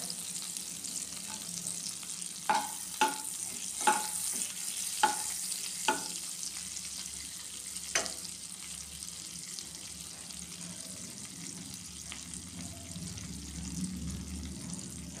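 Bay leaves and dried chillies fry in melted butter, crackling under a constant low sizzle, with a cluster of sharp pops and spoon clinks early on before settling into quieter frying.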